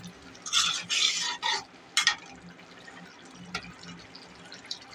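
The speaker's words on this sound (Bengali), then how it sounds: "এখন মাছটা দিয়ে ভালো করে কষাবো।" Fish pieces sautéing in a pan, with a soft continuous sizzle broken by several loud stirring and scraping bursts in the first half.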